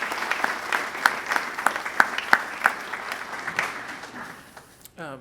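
Scattered applause from a small audience at an opening reception, individual claps crisp and distinct at first, then thinning into a softer patter that trails away near the end.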